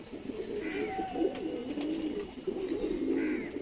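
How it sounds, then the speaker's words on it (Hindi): Pigeons give soft, low, repeated coos close by, a steady warbling murmur over faint background noise, with no one speaking. "कबूतर ऑटोमेटिक ठीक हो जाएगा"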